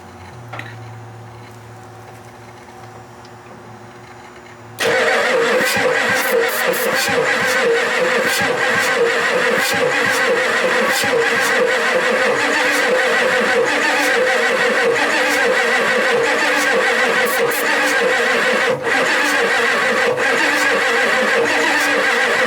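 A Ford F-250 diesel that has sat for over ten years cranks briefly and then catches, settling into a loud, steady idle that runs on without a break.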